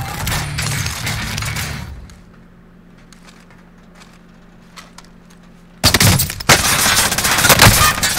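Bursts of video game gunfire, with rounds fired through a wall: a loud rapid volley, a quieter stretch with scattered faint shots, then another heavy sustained burst of fire.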